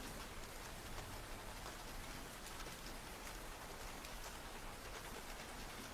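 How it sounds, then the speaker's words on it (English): Steady rain pours onto a surface in a dense, unbroken hiss of many overlapping drops, even in loudness throughout, with no voices. "Keep the rain close."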